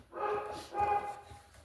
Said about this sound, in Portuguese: Vocês vão escutar ele latir junto com a leitura.